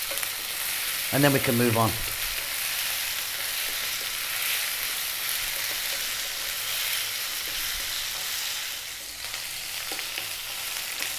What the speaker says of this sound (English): we're going to stir fry this around in the pan for 4 to 5 minutes